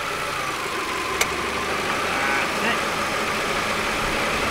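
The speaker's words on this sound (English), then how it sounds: "Now with your donor vehicle running, now's the time to connect live." The engine of a donor car running and idling, a steady mid-pitched hum holding even throughout, with a single sharp click partway through.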